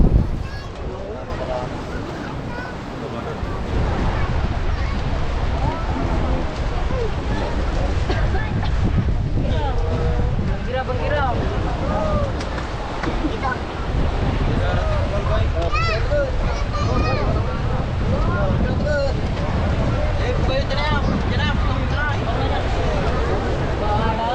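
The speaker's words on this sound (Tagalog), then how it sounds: "masama lang yung panahon dahil malaki ang alon" Strong wind and big waves at sea off Lingayen Gulf during swordfish season, a continuous rough roar of gusts and surf around a fishing boat, with people talking over it.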